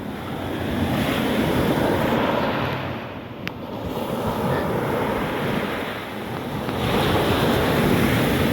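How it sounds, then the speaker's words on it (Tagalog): Powerful ocean waves surge and crash continuously along a seaside boulevard in Partido, a roaring wash with wind buffeting the microphone, no voices. "Malakas ang alon."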